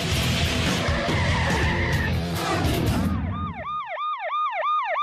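Tires skid loudly and a truck engine roars as the truck swerves during a high-speed police pursuit; the noise then cuts out and a wailing police siren sweeps up and down in repeated cycles.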